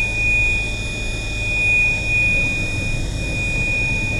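A rapeseed combine harvester emits a steady, continuous high warning tone at low engine speed, sounding over a constant low engine rumble with no pauses.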